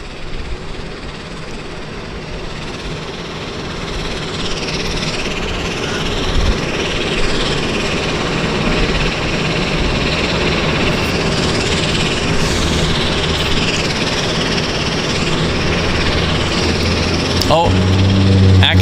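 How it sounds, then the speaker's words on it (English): A Harbour Air Caravan floatplane starts its engines at the dock in Vancouver Harbour, giving a steady, broad engine roar that builds slightly and lasts throughout, with people talking over it. "at the dock we have this Harbour Air Caravan starting its engines"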